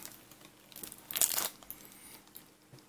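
Plastic packaging on a PS4 game box is crinkled and torn open, one short burst of crackling, with faint rustles before and after in a quiet room.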